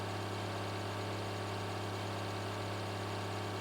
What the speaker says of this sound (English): it's not the fastest tractor